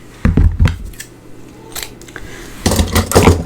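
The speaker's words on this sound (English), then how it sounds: "Let's get scissors." Scissors cut through craft material during gift card making, giving a few sharp close snips early on, a lone snip midway and a denser run of cuts at the end.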